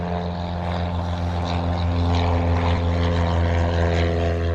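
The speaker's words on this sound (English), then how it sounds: "You can hear another plane take off. A little propeller plane." A small propeller plane, like a Cessna, takes off near Lake Ontario, droning steadily with a buzzing, harmonic engine tone, fairly close and loud, with no talking.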